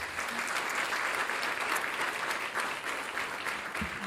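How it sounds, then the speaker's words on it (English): An audience at an awards breakfast gives the catering staff another big round of applause: dense, continuous clapping from many hands, fairly close and steady throughout. "Let's give them another big round of applause."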